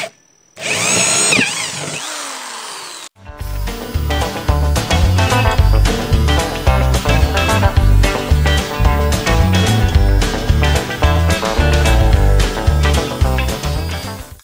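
A brief whine, then a pause before a loud power drill grinds steadily as it bores a hole in bed framing inside a car, its motor rattling and juddering continuously for several seconds.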